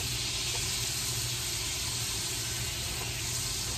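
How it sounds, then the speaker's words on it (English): Butter melting into four tablespoons of olive oil in a pan, giving a steady, even sizzle and hiss that holds at a constant level throughout, with no voices. "I'm going to let the butter melt before adding the other ingredients."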